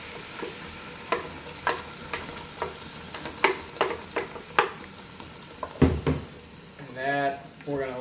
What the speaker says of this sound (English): We're going to add in the tomatoes and the pepper mixture.